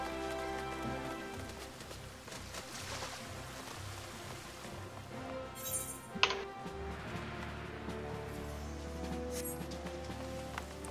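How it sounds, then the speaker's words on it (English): Rain falls steadily in Final Fantasy XIV: A Realm Reborn, a constant soft patter layered over the game's background music, with a brief sharper knock midway and no talking. "And it's raining."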